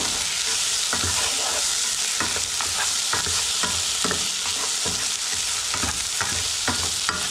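Tomatoes stirred into chorizo and seafood frying in a pan for a spicy pasta, a loud, constant sizzle with a steady patter of spoon scrapes and knocks throughout.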